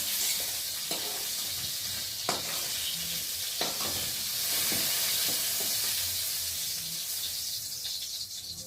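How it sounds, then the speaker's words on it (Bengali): Pointed gourd pieces frying in oil in a pan give a steady, close sizzle, with occasional soft scrapes and clicks of stirring scattered through it and no talking. "এখানে পটল ভাজা হচ্ছে। আজকে পটলগুলোকে ভেজে তুলে নেব।"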